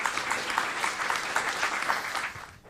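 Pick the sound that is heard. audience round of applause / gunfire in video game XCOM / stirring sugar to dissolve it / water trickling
audience round of applause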